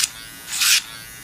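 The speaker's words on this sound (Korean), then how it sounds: "지금 프로 그라인더로 발톱을 갈고 있어요" An electric pet nail grinder files a senior dog's nails in two short, bright buzzing bursts, the second longer and louder, against quiet background noise.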